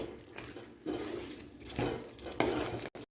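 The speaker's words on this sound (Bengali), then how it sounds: "এখন আমি টমেটো সসটা দিয়ে মাংসের সাথে ভালো করে আবার দেড় থেকে দুই মিনিট একটু কষিয়ে নিচ্ছি" Chicken pieces being sautéed with tomato sauce in a pan for chicken jhaal fry, soft scraping and stirring strokes in a few bursts over a faint low sizzle, quiet and close, ending with a short clatter.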